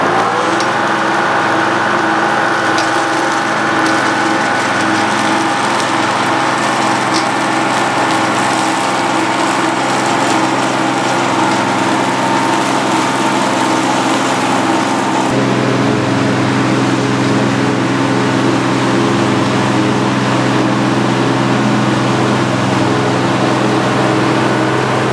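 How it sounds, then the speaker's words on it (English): A small lawn mower, set to cut as low as possible, runs loud and steady while mowing a clover food plot, a continuous engine drone close by that shifts in pitch partway through. "I'm going to get the mower. I got that little mower set as low as it can mow"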